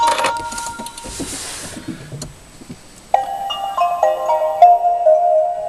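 Nissan Leaf electric car powering on: a click, then a short melodic electronic start chime of sustained bright tones that step up and down and ring clearly on their own inside the cabin.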